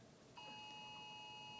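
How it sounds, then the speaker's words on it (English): An Amber Alert tone sounds from a phone as a steady, piercing electronic beep that starts abruptly and holds, faint and somewhat distant against quiet room noise. "Oh, that's that Amber Alert."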